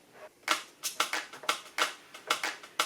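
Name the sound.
layered claps on the quarter notes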